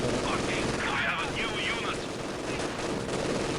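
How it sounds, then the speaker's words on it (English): Light machine guns fire in Company of Heroes 2 as a steady, continuous rattle of gunfire, with a voice talking over the shooting. "guard squad getting ripped on the right hand side with the LMGs"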